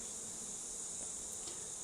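Honey bees hum steadily and faintly on Flow hive frames, a continuous buzz with no speech.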